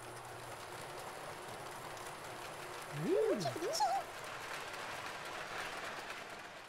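A cartoon train passes along rails, heard as a faint, steady rumble with a brief warbling, whistle-like tone rising and falling midway.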